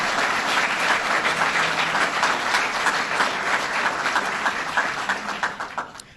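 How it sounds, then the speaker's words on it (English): A crowd in Chautauqua County gives the President a round of applause, loud sustained clapping that holds steady for several seconds before thinning and tapering off at the end. "Let's give the President a round of applause."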